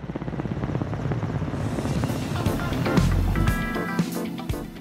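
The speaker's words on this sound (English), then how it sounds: "the foreign athletes were flown by helicopters to Nalter village" Helicopter carrying athletes to a mountain village in Pakistan's Gilgit region, a steady loud rotor and engine drone with music over it throughout.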